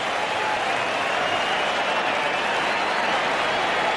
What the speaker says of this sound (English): the Australian crowd applaud one of the great gladiators of the game